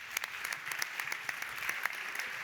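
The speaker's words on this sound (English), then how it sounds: "You can give him a proper applause." Steady audience applause at a European cooperation conference plenary, dense clapping with scattered sharper claps throughout, fairly even in level and without talk.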